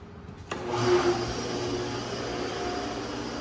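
A pool pump for an in-line chlorinator setup kicks on with a sudden onset, then settles into a steady, close whirring hum with a faint tonal whine that carries on unchanged.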